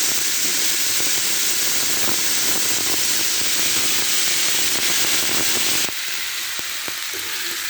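Potatoes sizzle and crackle loudly while being stirred and slowly fried in a pan, a steady dense hiss with scattered pops that drops slightly in level near the end.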